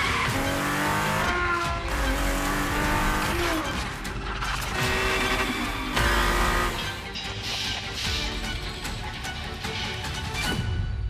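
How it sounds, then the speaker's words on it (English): Ferrari F50 supercar in The Crew Motorfest video game, its high-revving engine climbing through repeated gear shifts with bursts of tire squeal and skidding, loud and close, no voices. "The Ferrari F50, a bridge between road and racetrack."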